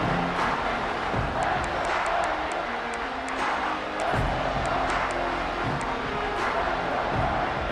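A stadium crowd roars and cheers in the College Football 26 video game, a broad continuous wash of many voices with a few sharper swells, steady and loud throughout.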